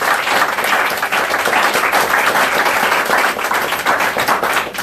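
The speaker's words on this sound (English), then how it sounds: "Can we all give them a round of applause?" Sustained applause from an audience at a legislative panel event, dense steady clapping filling the whole stretch at close range, with no speech over it.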